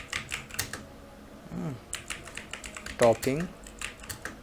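Keys clatter in quick irregular bursts on a computer keyboard while text is typed into an MS Word document, the tapping close and crisp, with someone talking over it at times.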